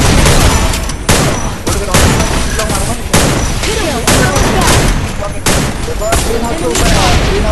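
Gunfire in a shooting video game match, dense rapid bursts and fusillades of shots in loud sustained volleys with short gaps, a near continuous barrage throughout.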